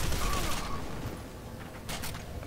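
Gunfire in the video game F.E.A.R. 2 comes as a loud burst of rapid shots at the start, then settles into a rough, noisy rumble with a few sharp cracks near the end.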